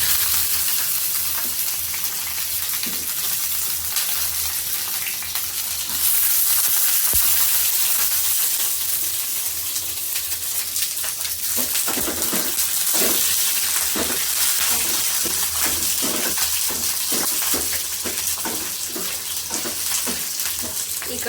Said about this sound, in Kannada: ಸೊ ಮಟನ್ ಸಾಂಬಾರು ಮಾಡೋಕ್ಕೆ ಇಷ್ಟು ನಾನು ಇವಾಗ ಹುರ್ಕೊತೀನಿ